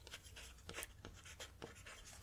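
Pen writing a date on a library card, soft close scratching strokes in a quiet room, faint and steady, no talk.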